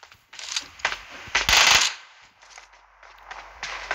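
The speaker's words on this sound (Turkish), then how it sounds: "Bombalar yağır ya buradan." Explosive blasts in PUBG Mobile: a run of sharp bursts with one long, loud roaring blast in the middle, followed by quieter scattered cracks.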